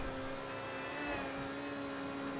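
Overflod Entity MT supercar engine in GTA 5, a steady, sustained hum with a faint rise in pitch midway, heard alone without voices.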